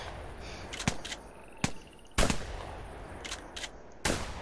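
Gunshots fired while duck hunting in the video game theHunter Classic, about five sharp single cracks at uneven intervals, moderately loud against a quiet outdoor marsh background with faint insect or frog chirps.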